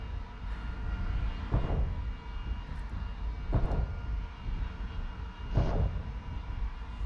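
A-10A jet engine in the War Thunder flight simulator, a steady droning whine with a low rumble, broken by three evenly spaced bursts of louder noise, with no talking over it.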